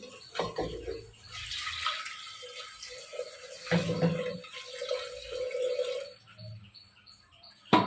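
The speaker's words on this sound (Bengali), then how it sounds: "এরপর জল দিয়ে দিই" Water is poured into a cooking pot in a home kitchen, a soft splashing and trickling in a few uneven bursts, fairly quiet, with faint chirps in the background.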